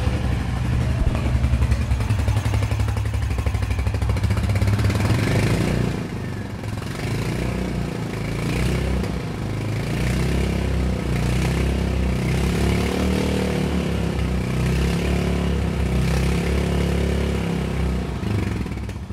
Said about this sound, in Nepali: अब हामी रोयल एनफिल्डको हन्टर 350 को एक्जिट साउन्ड सुन्न जाँदैछौँ।